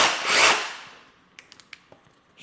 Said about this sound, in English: Hammer drill mode.